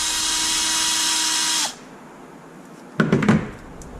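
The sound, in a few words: power drill taking out receiver box screws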